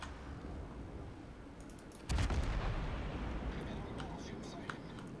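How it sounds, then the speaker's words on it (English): The cruiser York fires a salvo in the naval video game World of Warships. A single heavy blast lands midway and leaves a rumbling tail, under quiet talk. "a sort of single set of shots from that York is going to scratch my paint"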